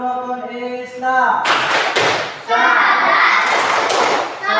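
Children clapping a Tepuk Rukun Islam clap chant in a classroom, a few sharp claps in a patterned rhythm following a spoken call, with voices around them.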